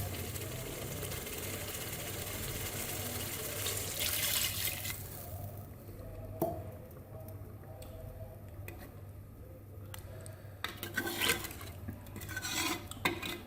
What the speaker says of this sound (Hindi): अब मैं इसमें पानी डालने लगी हूँ 1 गिलास।